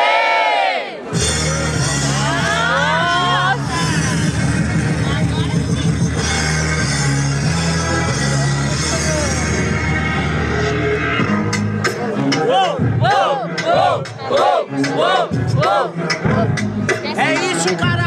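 At a student rap battle in Guarulhos, São Paulo, a crowd shouts loud chanted replies to an amplified host calling out to them, ending in rhythmic bursts of shouting in unison.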